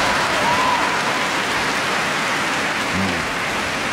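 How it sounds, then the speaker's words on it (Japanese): Loud, sustained applause fills a badminton arena during a Japan Open men's doubles match, a dense even roar of clapping from the crowd that holds steady throughout, with a brief voice near the end. "場内から大きな拍手です。"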